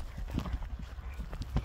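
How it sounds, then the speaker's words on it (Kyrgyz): A horse's hooves clip-clop slowly at a walk, a few soft, uneven thuds heard at close range with quiet background sound. "Секин бастырчы Бекзат мындай эле."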